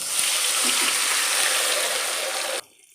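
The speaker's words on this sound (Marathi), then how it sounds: "लगेचच आपल्याला घालायचं आहे एक ग्लास हे पाणी" A glass of water is poured into a pan of sugar for khaman dhokla, a continuous close splashing gush lasting a couple of seconds before it abruptly stops.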